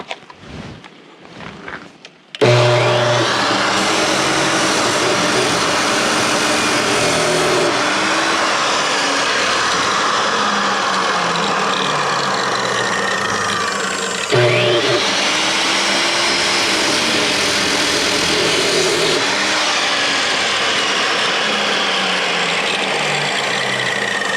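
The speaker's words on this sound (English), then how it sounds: "It's a 15 amp Milwaukee metal cutting chop saw." A 15 amp Milwaukee metal cutting chop saw running through two cuts, a loud sustained motor whine and grinding roar starting abruptly after a quiet moment, with a brief surge between cuts.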